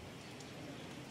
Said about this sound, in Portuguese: E agora a chuva começou a cair bem mais forte, bem mais torrencial.